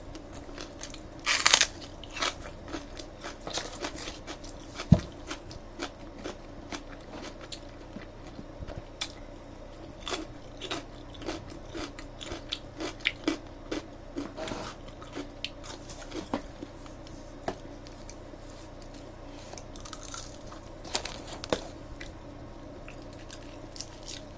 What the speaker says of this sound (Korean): 대파를 이렇게 먹는 걸 좋아해요.